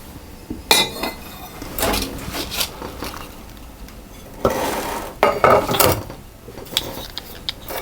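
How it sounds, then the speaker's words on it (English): Thick buttermilk strawberry muffin batter is scooped into a metal muffin tin with a cream scoop, giving close, irregular clinks, scrapes and clatters of utensil against metal. "I'm going to put that into my muffin tin."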